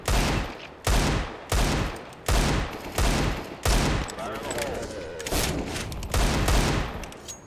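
Gunfire rattles in a video game, coming as about eight rapid volleys in a steady rhythm, each burst loud and sharp, with a few busier, overlapping shots in the middle.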